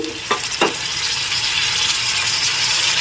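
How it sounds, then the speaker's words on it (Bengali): Tomato puree hits sizzling egg curry masala in a hot pan, two quick stirring scrapes up front followed by a loud, steady frying sizzle close by. "এর মধ্যে দিয়ে দিচ্ছি টমেটো পিউরি"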